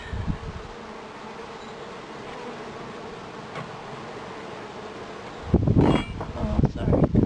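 Honeybees buzzing around an opened top bar hive in spring, a steady soft drone of wings close by, with louder rustling and handling noise toward the end.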